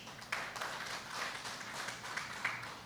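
Faint, distant applause from an audience at a police doctoral conferment ceremony: soft scattered clapping heard at low level with a few slightly louder claps standing out.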